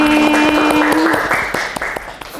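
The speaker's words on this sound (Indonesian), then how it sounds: "tepuk tangan untuk hari ini" A class in an Indonesian university course on lifestyle and consumer culture applauds at the end of the lesson: scattered sharp claps over loud tonal music that fades toward the end.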